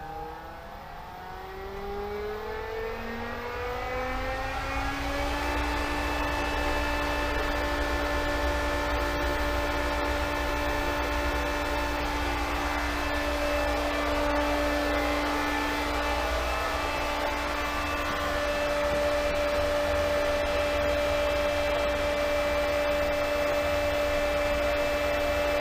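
A 1.5 horsepower single-speed pool pump spins up to 3,450 RPM, its steady motor whine rising in pitch over the first few seconds and then holding a loud, constant hum with broadband rushing noise, no voices.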